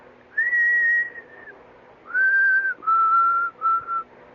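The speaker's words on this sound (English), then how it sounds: "No, that's just what I whistle." A person whistles a short tune alone: a long held note, then several shorter notes at slightly different pitches, clear and close.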